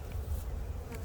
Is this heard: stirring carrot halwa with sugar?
no